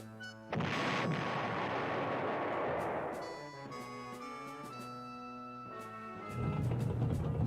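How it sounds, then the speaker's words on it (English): Artillery fire from the PlayStation Panzer General war game, a loud booming blast that swells and fades over about three seconds, followed by a run of short game tones and beeps, then another rumbling burst near the end. "I thought that was my artillery firing"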